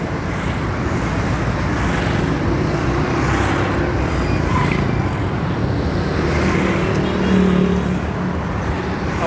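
Continuous road traffic of cars and motorbikes rumbles around midday on a street in North Karachi, loud and steady with engines passing close by and a dense wash of roadway noise.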